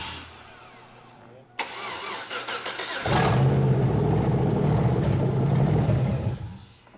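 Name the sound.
LS V8 engine firing up in Chevy Blazer 4x4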